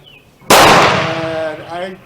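A Model 1916 Berthier rifle fired with reloaded ammunition outdoors; one sharp, loud close shot with a ringing decay and echo trailing off over about a second and a half.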